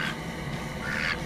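A duck quacks in a short, close, raspy burst in a rural countryside setting.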